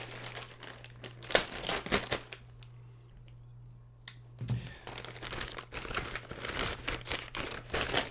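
Plastic mail bag crinkling and tearing as it is handled and cut open with an unboxing knife, steady close rustling and crackles throughout with a low hum underneath.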